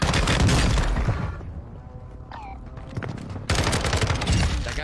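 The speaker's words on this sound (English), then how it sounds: "Hostile airstrike incoming." Video game gunfire and airstrike explosions erupt as dense, loud bursts of rapid shots and booms, ease off into a quieter stretch with a few faint tones, then return in full force.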